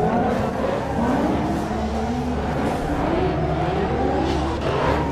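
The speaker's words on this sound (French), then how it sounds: "Qui conduit très bien, qui pilote bien cette E30 Touring notre ami Jordan" A BMW E30 Touring race car makes a drift run, its engine droning loud and steady with rising and falling revs under tire noise.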